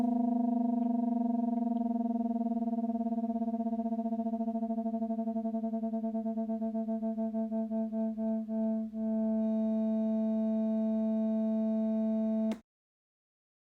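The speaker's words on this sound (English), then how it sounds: "two notes that are close but are not quite the same sliding together into a unison sound." Two steady tones sound together, their pulsing beats slowing as the pitches slide into unison, then the sound cuts off abruptly.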